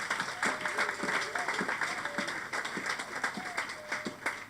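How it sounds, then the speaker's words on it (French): A church congregation applauds, with steady rhythmic clapping filling a large room, joined by voices calling out over the claps, at moderate loudness throughout. "Je veux qu'on applaudisse pour ce miracle."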